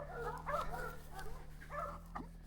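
Dogs barking and yipping in a few short bursts, faint and somewhat distant over a low steady hum.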